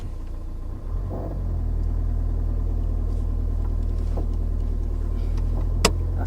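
A car pulling away during a driving lesson, its engine rumbling low and steady close by as it moves off, with a brief knock near the end and no talk.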